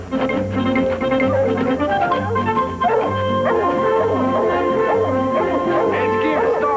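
A dog yips and whimpers in excited, repeated bursts over steady music, fairly close and loud throughout.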